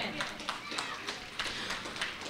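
An audience at a school stage event claps for the students' performance, with individual sharp claps standing out in a moderate, fairly sparse rhythm.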